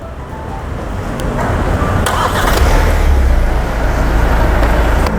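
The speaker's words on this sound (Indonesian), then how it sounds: "Secara otomatis mesin akan menyala seperti ini dan AC juga akan menyala." Hyundai Santa Fe 2021 engine started by remote start, rising from a low idle rumble into a steady, close engine drone with a few faint clicks and a small swell partway through; no talk.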